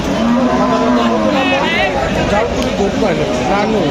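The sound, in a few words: cattle mooing at a cattle market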